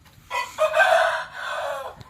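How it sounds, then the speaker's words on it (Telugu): Roosters crow on a native chicken farm, with one long, loud crowing call and a second crow right after it, carried over a low murmur of fowl noise in the background. "కోళ్ళు అయితే ప్రస్తుతానికి ఇవే ఉన్నాయి"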